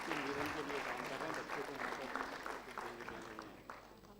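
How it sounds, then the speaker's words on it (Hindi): An audience at an education talk show event claps steadily and warmly, a dense wash of applause sustained throughout, with a voice briefly audible underneath. "बहुत ज़ोरदार तालियां हो जाएं उनके लिए"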